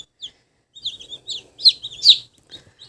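Day-old Black Cochin chicks peep in scattered, high thin chirps, several short calls close by over a quiet background.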